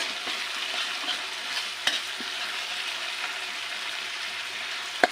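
A spice paste of ground green chillies fries over a medium gas flame for a brinjal dish in fennel paste, with an even, close sizzle throughout and a couple of sharp clinks from a utensil against the pan.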